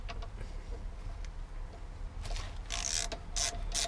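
A ratchet undoes the 12mm bolts on a Japanese motorcycle's front brake caliper, giving quick bursts of clicking up close, then louder metallic clatter toward the end, with no talking.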